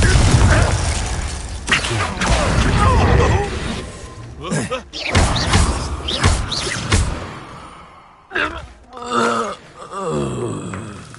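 Spell blasts and magical impacts in the Hogwarts Legacy video game, loud bursts and thuds in quick succession with gaps of quiet between them, mixed with voice-like grunts and effects.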